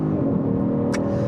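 The twin-turbo 3.3-litre engine of a 2024 Genesis G70 sports sedan on Michelin Pilot Sport 4S tires gives a loud, steady, deep drone under acceleration, close up and continuous, with a brief hiss near the end.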